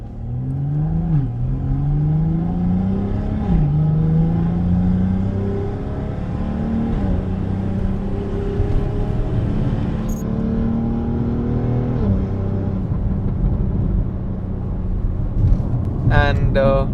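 A tuned BMW X3 M40i with a Stage 2 setup making around 470 wheel horsepower pulls hard, its engine note climbing and dropping repeatedly as it shifts through the gears, loud and sustained, with a short clattering burst near the end.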